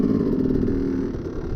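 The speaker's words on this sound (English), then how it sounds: "All right, we're going in first gear. Gonna accelerate, ready to shift." A 2-stroke dirt bike engine accelerating in first gear, loud and close, a continuous rising buzzing drone with no voices.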